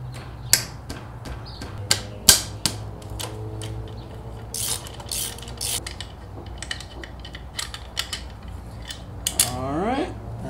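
Socket ratchet removing 12 millimeter bolts from a Yamaha Raider motorcycle fork: scattered clicks and metallic clacks of tool and parts handled close up, with a brief whirring sweep near the end.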